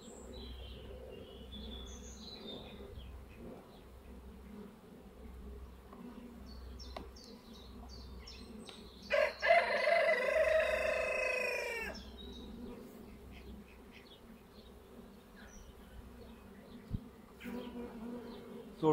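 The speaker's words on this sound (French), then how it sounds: "Il y a déjà des montagnes d'abeilles sur tous les blocs de miel que je mets à côté" Dense buzzing of honey bees swarming around honey-filled beehive frames set aside during a transfer from a miniplus hive to a Warre hive, a steady close drone with a louder surge midway, no speech.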